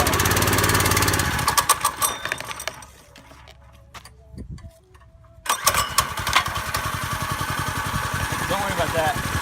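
The small engine on a home-built drift trike runs loud and rough at throttle, sags and nearly dies in the middle, then picks back up to a rapid buzzing putter.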